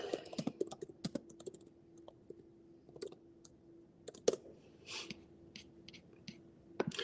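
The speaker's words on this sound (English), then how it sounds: "Let me type over here." Quick, irregular clicking of keys on a computer keyboard, close and fairly quiet, with bursts of typing and brief pauses in between.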